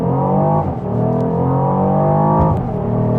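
A 2025 Porsche Cayenne S E-Hybrid accelerates hard with a loud, sustained engine drone whose pitch climbs steadily, dips briefly near a gear change, then climbs again. No one speaks.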